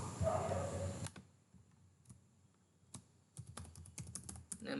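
Sparse clicks from a computer keyboard, with a brief burst of noise at the start followed by scattered key taps that grow into a quicker run of typing near the end, fairly faint and with no talking.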